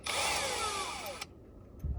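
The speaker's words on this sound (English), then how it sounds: "I'm going to do a quick pilot hole." A drill whines briefly with a falling pitch as it bores a pilot hole in metal, then cuts off abruptly, followed by a soft thump and near silence.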